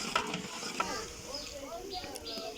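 Onions sautéing in a pan with cinnamon, cloves, cardamom and bay leaves for a prawn roast: a steady soft sizzle under scraping and clinking stirring, close and continuous.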